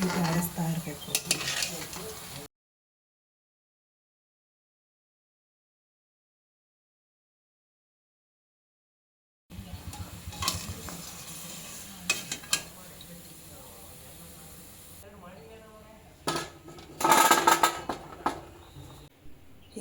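Jamun fry in hot oil while a slotted spoon stirs them, soft sizzling and metal scraping against the pan heard close, broken by a long silent gap before the stirring resumes with sharper clinks.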